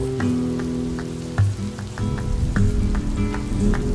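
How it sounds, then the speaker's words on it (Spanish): Heavy rain patters and crackles steadily on a roof, a dense continuous roar with scattered sharper drops. "La lluvia caía a raudales sobre el tejado."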